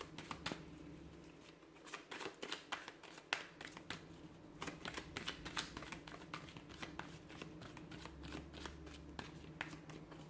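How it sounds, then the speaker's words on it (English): Tarot cards being shuffled by hand, a rapid riffling patter of crisp snaps that runs steadily throughout, close and fairly quiet. "So we'll give the cards a shuffle"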